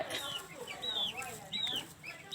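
Chickens kept on a farm cluck and chirp in short, repeated calls, fairly close, over a quiet background.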